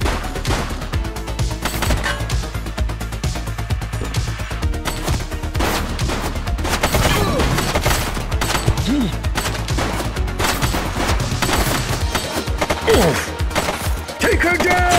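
Sustained gunfire in the police video game The Precinct, loud rapid shots and machine-gun bursts rattling continuously over a dense action soundscape, with brief faint voices mixed in.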